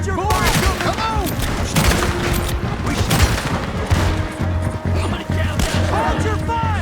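Gunfire from the Western video game Red Dead Redemption: dense volleys of rifle and pistol shots crackle continuously under mixed game sounds, loud and close, while characters talk over the shooting.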